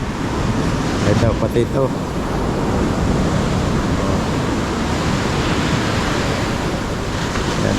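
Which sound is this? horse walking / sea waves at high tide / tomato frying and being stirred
sea waves at high tide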